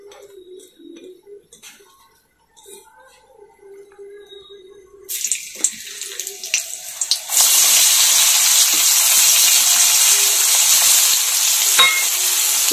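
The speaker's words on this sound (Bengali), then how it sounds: "তেলটা গরম হলে পেঁয়াজগুলো দিয়ে দিব।" Finely chopped onions, four of them, hit hot oil and fry with a loud, steady sizzle that starts abruptly midway and holds, preceded by quieter kitchen clatter and small handling sounds.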